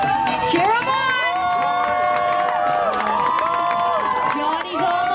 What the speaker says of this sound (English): Cheer them on!